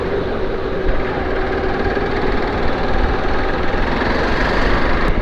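Steady engine drone from a Xpulse 200 motorcycle being ridden along a road near the outer ring road, a continuous, loud running note with wind noise throughout and no talking.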